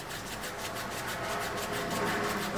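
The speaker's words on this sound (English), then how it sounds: "friction, rub up and down briskly for 1 minute in the same position." Continuous brisk rubbing of a small gadget up and down in one spot, a steady dense friction hiss with a fast even back-and-forth rhythm, close and fairly loud with no talking.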